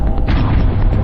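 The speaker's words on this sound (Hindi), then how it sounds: "टक्कर होते ही डिग्गी में रखा बम फटा।" A bomb stored in a motorcycle's storage box explodes after a head-on collision between two motorcycles on a road, a loud, deep boom with heavy low rumble filling the whole short moment, close and powerful.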